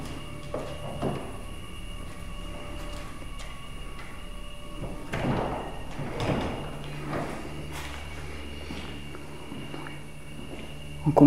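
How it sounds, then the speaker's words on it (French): A door being closed in an abandoned castle, with sliding and creaking sounds and a few knocks near the middle, surrounded by faint shuffling footsteps and a steady low hum. "Du coup, Mandy, est-ce que tu peux fermer la porte?"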